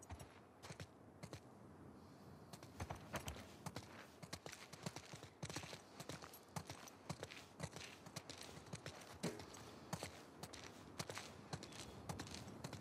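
Dense, steady clip-clop of horse hooves at a walking pace in the video game The Last of Us, close and continuous, with a few faint creaks mixed in.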